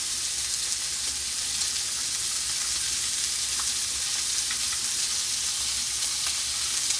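Butter sizzles in a hot pan alongside steak, rosemary and garlic, a continuous dense frying hiss at steady volume, close by, with a few faint clicks and no voices.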